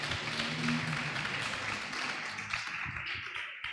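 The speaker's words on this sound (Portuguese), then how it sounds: "Vamos aplaudir o nome do Senhor Jesus Cristo" A church congregation claps during a worship service, a short, uneven burst of hand claps mixed with a low tonal hum and some background murmur.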